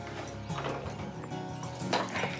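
Hooves clop unevenly on the ground in a loose, irregular rhythm, close by, with some soft rustling and faint background noise.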